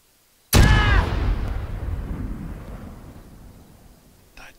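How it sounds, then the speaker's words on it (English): A video game explosion bursts suddenly with a sharp loud crack, then a deep rumbling boom that slowly decays over several seconds, followed by a faint small noise near the end. "There was an explosion."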